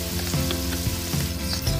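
Vegetables fry in a pan with panch phoron spices for a rohu fish curry with cauliflower, potato and beans: a close, steady sizzle with soft stirring beneath a continuous tonal hum.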